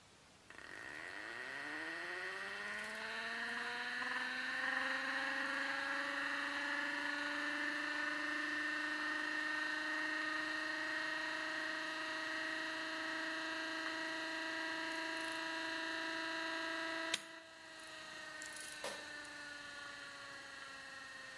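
A DIY axial flux brushless DC motor with multipole flat coils spins up from rest, its whining tone rising steadily in pitch and then holding a smooth, continuous hum, with a brief clunk near the end.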